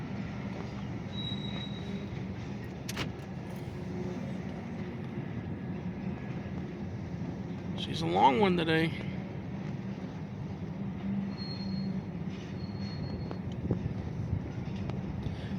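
A Norfolk Southern freight train rumbles past continuously at a distance, with a sharp burst of wheel squeal midway and a person speaking briefly over the noise.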